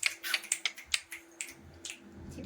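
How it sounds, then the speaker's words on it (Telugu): Several sharp finger snaps in quick succession at a family first-birthday celebration at home, close and crisp, thinning out into softer scattered clicks and faint background murmur. "చిటికలు"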